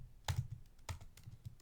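A few quick computer keyboard keystrokes typing a short terminal command, close and fairly faint, in two brief clusters with no talking.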